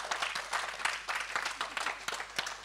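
A seated crowd at a French local ceremony applauds Tristan Dagonet, a continuous wash of many hands clapping at moderate distance with no talk over it.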